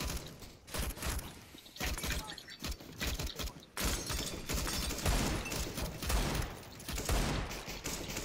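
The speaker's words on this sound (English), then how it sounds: "Laying down, suppressing fire" Dense gunfire from the shooter game CS:GO: a rapid, continuous fusillade of loud shots with short gaps, crackling in overlapping bursts for several seconds.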